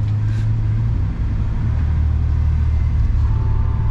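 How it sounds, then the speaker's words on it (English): A 1993 Ford F150 pickup engine idles nearby in the snow with a constant deep rumble, steady and unbroken, with no voices. "this truck runs nice."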